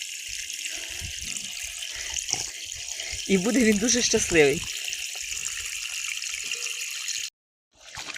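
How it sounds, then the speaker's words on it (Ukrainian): Steady rushing water pours into a pot for making thick porridge, close and continuous, while a person speaks briefly in Ukrainian over it; the flow cuts off abruptly near the end. "зараз тільки заливаю водою і роблю йому таку густеньку кашу"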